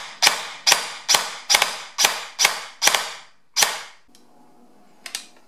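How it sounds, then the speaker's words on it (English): An LCT airsoft gun fitted with a GATE Titan v3 electronic trigger unit, firing semi-automatic: eight sharp, loud single shots in a steady rhythm, then a short pause and one more shot, with no voices. "Now the gun is in semi-automatic mode."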